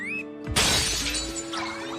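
An object shatters in an anime fight scene, a sudden loud crash of breaking pieces with bright scattering debris that rings out and slowly fades over steady music.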